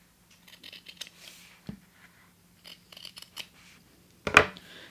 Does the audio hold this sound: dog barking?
no